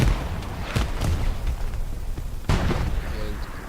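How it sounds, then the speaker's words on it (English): Artillery explosions in a war video game boom in sharp bursts amid constant rumbling battle noise, with two especially strong blasts standing out. "Nothing but explosions."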